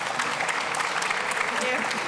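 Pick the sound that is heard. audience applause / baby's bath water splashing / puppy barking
audience applause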